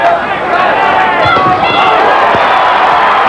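A boxing arena crowd between heavyweights Tim Witherspoon and Frank Bruno roars in a dense, sustained wall of cheering, loud and unbroken, with ringside commentary running over it.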